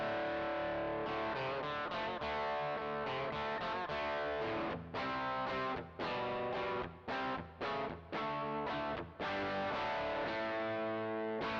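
Electric guitar played through a Tech 21 OMG overdrive pedal on a low drive setting, sustained chords with a warm, lightly distorted tone and short breaks between strummed phrases.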